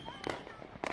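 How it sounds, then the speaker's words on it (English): Fireworks bursting in two quick crackling clusters, a few loud pops then a denser volley, with talk mixed in underneath. "Lighting and fireworks will always look cool."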